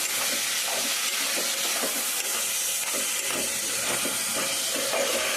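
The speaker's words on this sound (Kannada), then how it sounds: "ಟೊಮೊಟೊ ಹಾಕಿ ನೀಟಾಗಿ ಫ್ರೈ ಮಾಡ್ಕೋಬೇಕು" Tomatoes frying in a pan make a dense, constant steamy hiss that fills the whole short stretch, with faint scraping and stirring taps woven underneath.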